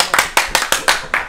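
Hand clapping in a small group setting, about six sharp, evenly spaced claps close to the listener, heard alone without talk.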